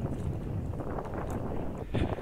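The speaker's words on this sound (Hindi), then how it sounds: "काफ़ी तेज ठंडी हवा चल रही थी," Strong cold wind at Pangong Lake in Ladakh in October buffets the microphone with a steady, loud, low rumbling roar, gusting briefly near the end, with no talk.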